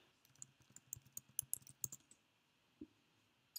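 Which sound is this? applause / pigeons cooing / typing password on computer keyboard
typing password on computer keyboard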